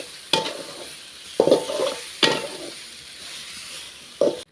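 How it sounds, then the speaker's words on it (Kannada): Flattened rice (avalakki) being stirred into tamarind gojju in a pan, heard as four separate scraping, sizzling strokes with short quiet gaps between them, close and fairly loud, and no voices. "ಇವಾಗ ನಾವು ಅವಲಕ್ಕಿ ಹಾಕ್ಕೊತಾ ಇದ್ದೀವಿ. ಅವಲಕ್ಕಿ ಹಾಕಿ ಇದನ್ನು ಮಿಕ್ಸ್ ಮಾಡ್ಕೋಬೇಕು."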